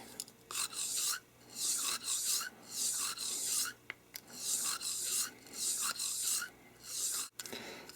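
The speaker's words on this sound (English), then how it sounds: "Now we're going to take the nylon brush and continue our cleaning." A nylon brush scrubs a Baby Desert Eagle II 9mm pistol. The strokes are close, repeated and rhythmic, with short pauses between them and a faint metallic tap near the end.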